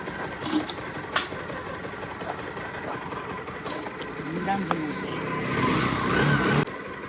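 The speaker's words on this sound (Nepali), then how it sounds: "बाइक बनिसकेको छ अब हामी जान्छौँ है" A motorcycle engine runs steadily at low volume outdoors, rising slightly toward the end, while people talk nearby.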